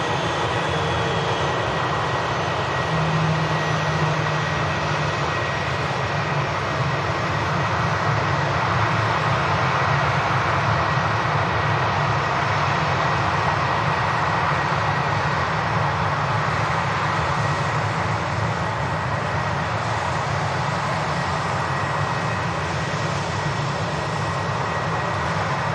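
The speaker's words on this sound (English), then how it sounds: "The EasyJet from Bordeaux on the way in." An EasyJet airliner arriving at Manchester Airport from Bordeaux makes a loud, continuous jet rumble and whine that holds steady for over twenty seconds, with no talking.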